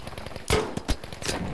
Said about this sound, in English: Got him with the grenade launcher.